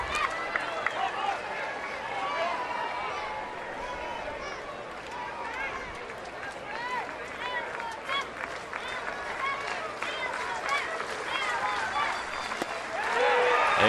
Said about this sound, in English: LSU crowd has come alive.